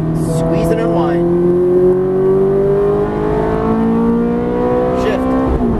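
A Ferrari F430 engine accelerates on a racetrack, loud and close, with a rising, sustained howl through the gears under a driving instructor's spoken coaching.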